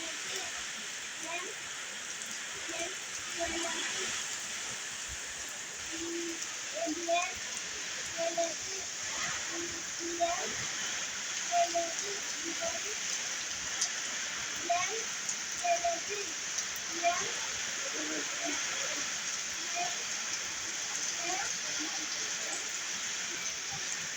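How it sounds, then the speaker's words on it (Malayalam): Steady hiss of heavy rain with strong wind falls throughout at a soft to moderate level in Vypin, Ernakulam district, Kerala, while a person talks intermittently over it. "ഇവിടെ നല്ല അടിപൊളി മഴയാണ്"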